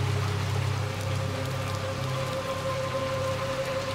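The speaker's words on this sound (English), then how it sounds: "look at the rain on the ground" Rain falls steadily on the ground in the dark horror game Little Nightmares 2, a continuous hissing patter over a low ambient hum, with no voices present.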